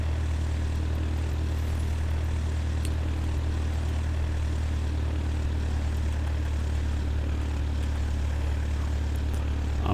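Small propeller airplane descending at high altitude near Jackson Hole, heard from inside as a loud, unbroken engine and propeller drone with a steady low hum and no talk.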